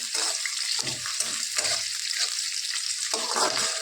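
Chopped onion, green chilies and garlic sizzle in hot oil in a pan while being stirred, a steady close hiss broken by rhythmic scraping pulses of stirring, with no talk.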